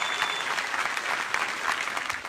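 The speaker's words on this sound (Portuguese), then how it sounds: "os convidados estrangeiros aplaudiram os atores brasileiros" Applause from foreign guests in a film screening room at the Cannes festival: dense, continuous clapping from a crowd, close and steady for the whole stretch.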